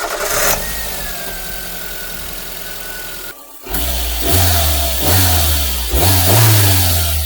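A small, unusual boxy car's engine starts up and revs hard and quickly, with repeated rising surges close up; no talking.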